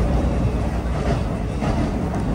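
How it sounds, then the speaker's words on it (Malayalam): Passenger train heard from inside a general-class coach on a rainy day with the windows closed, a dense low rumble of wheels and carriage noise at moderate loudness for a brief moment, steady without distinct clanks. "വണ്ടി എടുത്തു."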